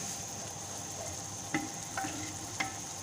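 Butter melts and sizzles with mutton kunna in a clay pot, giving a steady, moderate frying hiss broken by three short stirring scrapes.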